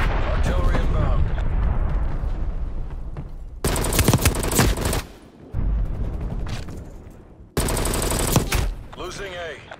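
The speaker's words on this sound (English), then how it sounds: "Artillery inbound" An artillery strike in Call of Duty: Black Ops Cold War, heavy booming blasts and bursts of gunfire in two loud surges over a busy, rumbling battlefield with voices in the mix.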